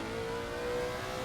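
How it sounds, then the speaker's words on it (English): A steady mid-pitched Lexus race car engine in a racing video game drones at constant loudness, a sustained racing-engine tone with no speech over it. "Love the sound of that Lexus. Yeah, it's a great sounding car."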